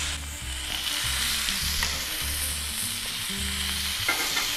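Bacon sizzles and crackles steadily in a pan on a grill during burger cooking, a close, constant frying hiss with faint scraping or clatter beneath.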